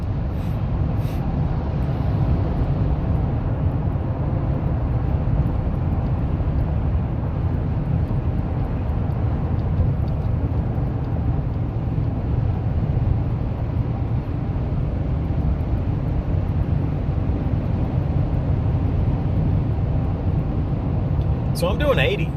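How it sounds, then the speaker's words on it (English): Chevy Silverado pickup truck cruising at highway speed, a steady low road and engine drone from inside the cab, constant throughout with no breaks. "This is cruising along the highway."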